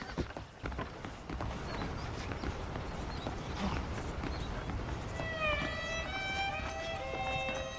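Horses clip-clopping in the Red Dead Redemption western video game, steady hoof beats running through the stretch, with an animal cry rising near the end.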